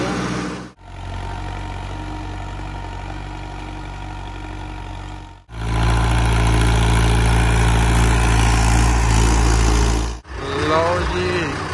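An Arjun 605 DI tractor engine runs with a deep, steady drone that swells louder in its middle stretch, close by, broken by brief gaps and with someone talking over parts of it.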